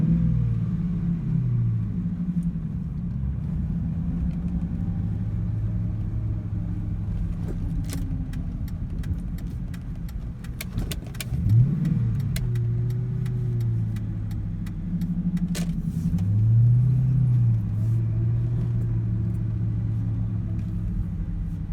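A 2001 Ford Mustang Bullitt on its original exhaust drives along with a steady low engine rumble, the pitch rising and falling through gear changes, with a brief louder surge midway and occasional clicks and rattles in the cabin.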